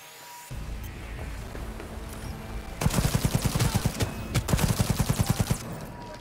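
Smart gun gunfire in Cyberpunk 2077: rapid bursts of automatic shots in quick rhythmic volleys, loud and close, with short pauses between bursts over a low game soundtrack.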